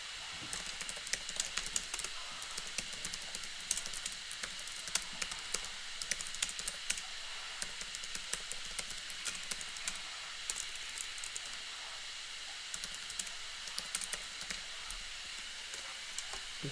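Steady typing on a computer keyboard during a late-night live study stream, with quiet rapid clicks running continuously in bursts, close and soft, with no speech.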